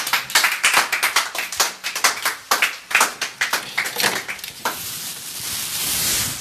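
Congregation at a church service clapping to acclaim the Lord, a close, steady run of sharp handclaps for about four seconds that then blurs into a continuous wash of applause and cheering.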